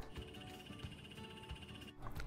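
A male bumblebee dart frog kept as a pet calls with a continuous buzzing trill, close and steady throughout, with no voices.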